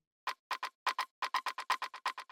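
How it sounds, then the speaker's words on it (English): A softer techno rim shot with echo clicks in a rapid syncopated pattern, each short crisp hit followed by a faint repeat, running steadily for a couple of seconds without any voices. "which is a little bit softer sounding, and it's got a bit of echo on it."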